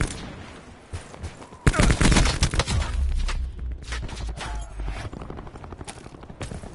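Call of Duty 4 gunfire on PS4, a loud burst of rapid automatic fire kicking in suddenly and continuing with sharp shots and echoing booms, with faint voices underneath.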